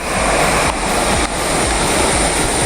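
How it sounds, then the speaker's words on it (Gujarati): Waterfall pouring down a hillside near the Khaniya Mahadev temple, a loud, dense, unbroken roar of rushing water close by, with no voices. "પહાડી ઉપર થઈને ધોધ તમને જોવા મળશે અને નીચે એ ધોધનું પાણી જઈ રહ્યું છે"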